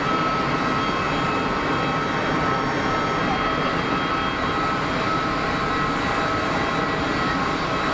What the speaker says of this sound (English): Good chunk of reverser as well